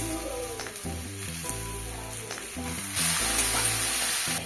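Spice paste with ginger frying in a pan before banana flower goes in, a constant sizzle and hiss under a loud patterned musical backing, growing brighter and louder toward the end.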